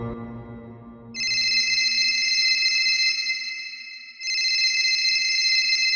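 An electronic phone ring tone, a high steady warbling tone sounding loudly, pausing briefly, then ringing again after a low rumbling start.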